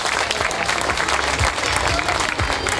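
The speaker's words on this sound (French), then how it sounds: "écoutez les applaudissements qui vont aller avec" A crowd at a stage-race cycling podium ceremony at the Tour des Landes claps loudly and continuously for a white jersey presentation, a dense, steady outdoor applause.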